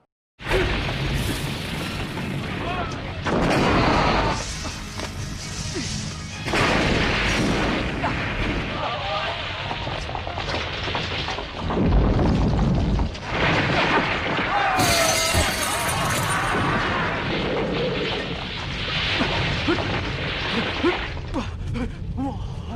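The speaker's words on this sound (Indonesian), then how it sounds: "bomnya pun menyala satu persatu dan membuat si isi goa hancur berantakan" Bombs go off one after another inside a cave, heavy booms and shattering crashes of collapsing rock with whooshing debris, loud and close in bursts across the stretch.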